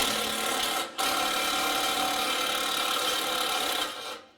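A ratchet wrench clicks in a fast, continuous rasping whir up close while sockets are swapped during a front differential service, with one brief break and a fade at the end.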